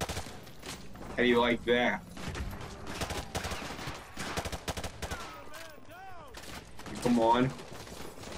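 Gunfire in Call of Duty: Modern Warfare 2 Campaign Remastered, with a heavy sustained burst around the one-second mark, scattered lighter shots and a second loud burst near the end, mixed with someone talking over the action.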